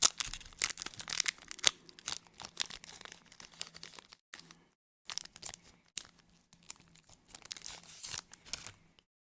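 A plastic bag from a Magic: The Gathering Final Fantasy Chocobo bundle is torn open by hand, giving close, irregular bursts of ripping and crinkling with a brief pause midway.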